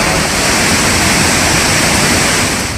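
Hogenakkal waterfall on the flooded Kaveri river roars in a loud, steady, unbroken rush of water with no voices.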